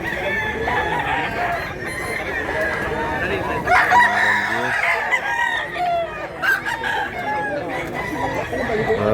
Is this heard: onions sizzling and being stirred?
no